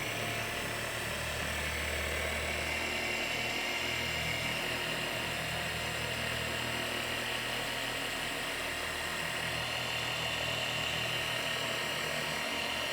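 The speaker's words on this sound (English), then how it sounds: "keep the polisher moving, don't let it hover" A polisher buffing the clear coat on a Lexus LX 470 during paint correction gives a steady, continuous whirring drone, close and unbroken, with no talking.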